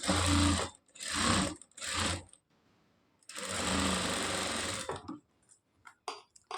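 A sewing machine stitching blouse fabric runs in three short bursts, pauses briefly, then runs one longer steady burst, loud and close, with faint handling clicks at the end.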